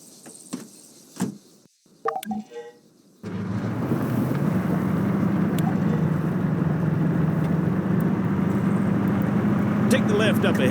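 A military vehicle driven in ARMA 3 starts up after a few scattered knocks, then a steady engine drone and rumble with wind noise runs on continuously, with a voice speaking early on.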